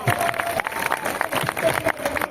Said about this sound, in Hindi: एक बार जोरदार ताली बजा दीजिए आप लोग